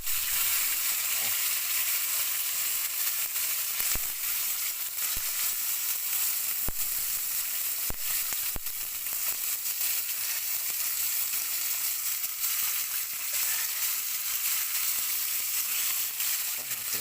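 A dish of fried food sizzles steadily in hot oil for the whole stretch, a dense close hiss with scattered crackles and a few brief stirring knocks.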